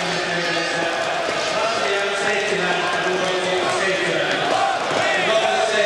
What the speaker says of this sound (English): Both teams thoroughly deserving the round of applause.